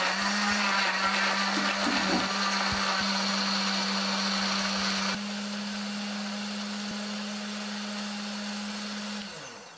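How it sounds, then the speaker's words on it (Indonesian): A kitchen blender grinds chili, candlenut, shallots, garlic and tomato with a little water into spice paste, a loud steady whir running for nearly ten seconds and easing slightly halfway before stopping. "Tambahkan sedikit air supaya lebih gampang untuk menghaluskannya."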